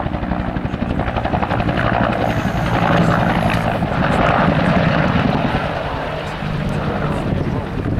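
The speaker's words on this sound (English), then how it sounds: "It has really a single blade, we call it a two blades, but it's one structure, and that gives it that famous Huey chop." A Huey helicopter with a single-structure two-blade rotor, flying as an RAF Griffin at an air show combat scenario, gives a continuous thudding rotor chop with engine whine, fairly close and steady, under an announcer's commentary.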